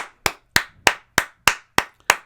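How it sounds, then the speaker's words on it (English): Seven sharp, evenly spaced hand claps ring out alone, one person clapping at a steady rhythm, close and crisp with nothing else underneath. "Big round of applause to Arsenal."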